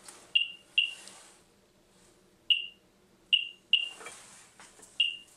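A Geiger counter held near a uranium sample gives sharp, irregular beeps, about seven across several seconds with uneven gaps, clear and close with a faint background hiss.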